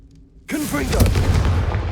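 A Confringo fire-spell explosion in Hogwarts Legacy: after a quiet start, a sudden loud burst erupts and sustains as a rumbling, crackling blast, with a brief vocal shout overlapping the onset.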